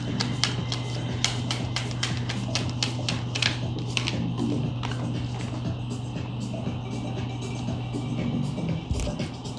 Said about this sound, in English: I'm doing a last shuffle.